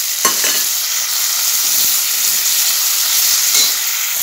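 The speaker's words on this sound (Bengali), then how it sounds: "এবার টমেটো দিয়ে দিই।" Tomatoes go into a pan of frying onion, garlic and salt for a chicken curry. A steady, loud hissing sizzle runs throughout, with a sharp spatter as they land and occasional stirring taps.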